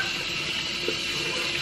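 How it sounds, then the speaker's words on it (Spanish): Water running steadily from a tap as hands are washed at a household sink, an even continuous stream with a faint splash near the middle, no talk. "Lávate las manos."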